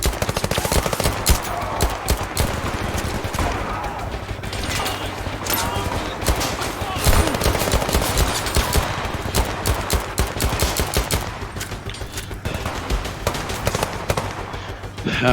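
Rapid automatic gunfire from the shooter game Zero Caliber, dense bursts of close, loud shots firing almost without pause throughout, with other weapons rattling in the background.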